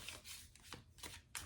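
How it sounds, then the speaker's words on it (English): A deck of tarot cards being shuffled by hand, a few close, crisp riffling bursts of card edges sliding against each other in a quiet room. "Just getting a good shuffle because I cannot shuffle that whole deck."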